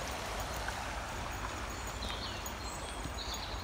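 Steady broadband rush of flowing stream water, continuous and fairly close, with no voices over it.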